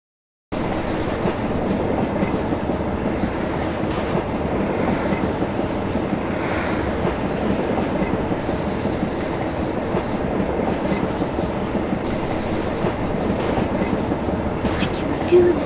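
A train runs in The Polar Express video game with a continuous loud rolling rumble and clatter of wheels on track. It holds steady for the whole stretch, with no pauses.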